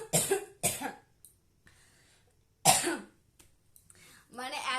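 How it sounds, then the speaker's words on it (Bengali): Three sharp coughs burst out close to the microphone, two in quick succession and a third after a pause, followed by a brief stretch of speech at the end. "এত চেঁচি চেঁচি কথা বলছি যে কাশি চলে আসছে"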